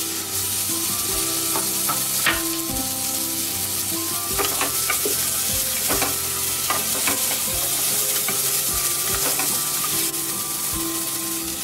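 Pumpkin pieces sizzle steadily in a hot pan for an apple pumpkin soup, with repeated scraping and clicking strokes of a spoon as they are stirred, close and continuous throughout.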